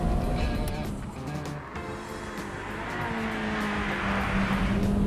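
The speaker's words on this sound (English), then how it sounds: "Down the straight, we're up to nearly 130 miles an hour in fifth, braking over this undulating section." A Ferrari F355 sports car runs flat out on a track near 130 mph in fifth gear, then brakes over an undulating section. The engine stays loud and sustained, with a steady high-revving drone and some wind and road roar.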